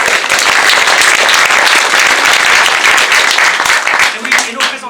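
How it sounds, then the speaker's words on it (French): An audience at an amateur theatre performance claps loudly in a warm, dense burst of applause that thins out near the end, with voices mixed in. "Merci évidemment à Elisabeth, on peut la applaudir quand même."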